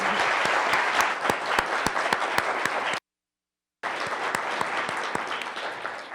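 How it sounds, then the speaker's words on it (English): Loud, dense audience applause welcomes candidates at a public forum debate for county auditor, a warm sustained round of many hands with sharp individual claps standing out, briefly cut to silence midway before resuming at full strength. "welcome our candidates with a warm applause"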